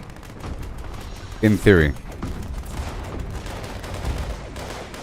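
A Nuka grenade in Fallout 76 goes off amid continuous game gunfire and rumbling, with a speaking voice briefly over the din.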